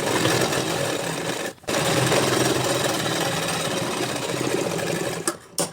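A sewing machine runs a fast, continuous stitch along a shirt shoulder seam, loud and close, pausing briefly once midway and stopping near the end.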